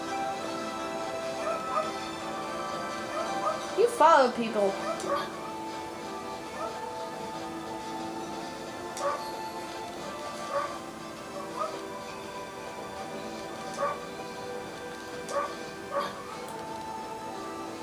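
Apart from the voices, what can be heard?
dog barking in the video game Okami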